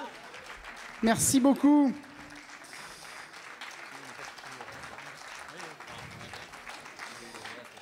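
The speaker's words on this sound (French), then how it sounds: "Allez, on applaudit tout le monde, allez-y" Audience applause at a live jam concert, a short loud burst of clapping that fades quickly, followed by someone speaking over low room noise.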